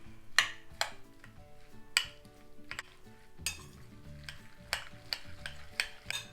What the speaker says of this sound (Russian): Перемешаю.